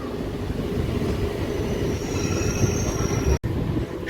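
A local train from Howrah toward Belur Math rolls along with a dense, steady rumble, thin metallic wheel squeals rising above it, heard from on board and without talk.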